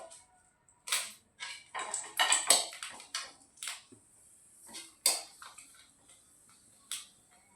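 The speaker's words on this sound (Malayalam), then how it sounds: "ഇനി ഇതിലേക്ക് വറ്റൽമുളക് ചേർത്ത് കൊടുക്കാം കേട്ടോ." Dried red chilies frying in hot oil in a pan, giving bursts of crackling sizzle and sharp pops that come in several irregular clusters, close and moderately loud with quiet gaps between them.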